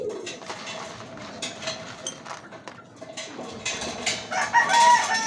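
Pet pigeons, including young birds, being fed corn grains, cooing and fluttering close by in a steady, busy flock sound that grows louder near the end.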